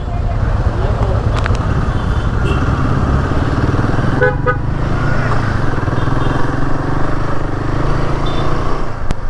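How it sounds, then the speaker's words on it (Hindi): An old Royal Enfield Himalayan motorcycle rides out on a group road trip, its engine rumbling loud and close with wind buffeting throughout and short horn toots midway, while a rider talks over it. "अब हो रही है हमारी राइड शुरू, ओल्ड हिमालयन।"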